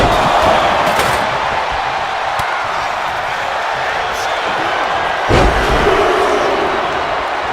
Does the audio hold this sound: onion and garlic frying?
no